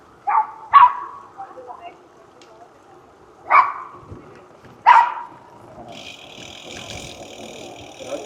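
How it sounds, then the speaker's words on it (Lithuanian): Dogs bark in a mountain village in Italy, heard as a few separate loud barks with pauses between them, followed by a low vehicle engine idling in the background. "šunys loja."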